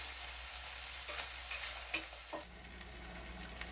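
Pork chops fry in a skillet with a continuous broad sizzle, broken by a few stirring and scraping touches, close and moderately quiet, without any talk.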